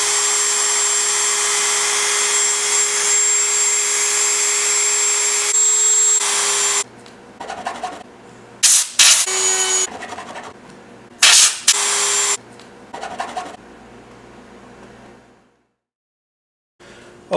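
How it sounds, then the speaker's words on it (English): A Dremel rotary tool fitted with a barrel sander grinds into a Millennium Falcon model part, a loud steady whine at first, then short bursts of cutting with gaps before it spins down into silence. "The barrel sander gives you some real precision work there"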